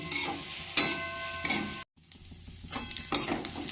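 Chopped onion, chili, beans and carrot stir-fried lightly in oil in a wok, with bursts of sizzling and scraping of a utensil, a brief silent gap midway, then stirring sizzle resuming close by.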